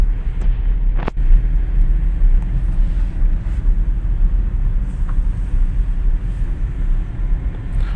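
A car engine rumbles low and steady inside the cabin as a learner driver eases off the clutch to pull away in first gear, with one sharp knock early on amid the constant drone.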